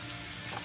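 Chopped garlic sizzles in hot oil in a pan for binagoongang baboy, a short, steady, close frying hiss.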